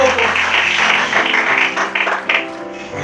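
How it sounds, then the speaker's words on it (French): A church congregation in Kinshasa claps loudly and continuously, dense applause filling the tabernacle with scattered cheers and voices mixed in. "Acclamons très fort pour la gloire de Dieu."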